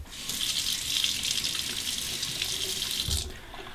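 Tap water runs steadily into a sink, rinsing a King C Gillette razor mid beard edging, a close, continuous splashing hiss lasting a few seconds before the flow cuts off.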